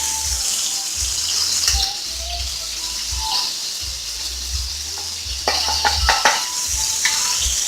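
Garlic sizzling in a pot of browning pork for pozole rojo, a steady loud frying hiss with clanks and stirring knocks from about five seconds on.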